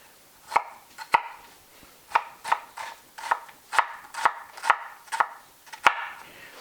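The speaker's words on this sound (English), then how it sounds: "But this way you end up with a lot of nice uniform pieces of onion. I'm using red onion for this tonight." A knife chops red onion on a board in about ten sharp, evenly spaced knocks, close and clear over a quiet background with no speech.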